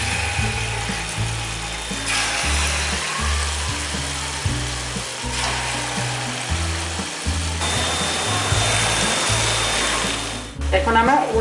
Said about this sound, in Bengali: পরবর্তী বড়াগুলো আমরা এভাবেই ভেজে নেব